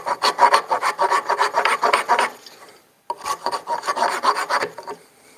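A farrier's rasp files a new wooden handle for an antique axe, making steady rhythmic rough scraping strokes, close and loud, in two runs with a short pause between.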